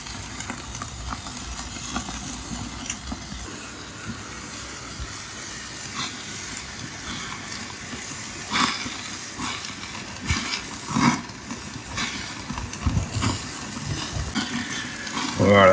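A tomahawk steak sears on a Char Griller Deluxe grill with a continuous loud sizzle and hiss, broken by occasional sharper crackles and bursts of spitting fat, close up throughout.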